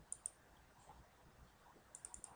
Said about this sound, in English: I'm double clicking in the header